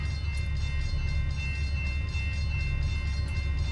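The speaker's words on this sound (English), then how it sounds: "I'm surprised the train is cruising at 50." A train cruises at about 50 in the Trainz railway simulator: a steady, heavy low rumble of rolling stock with a constant hum and faint rhythmic clatter, no voices.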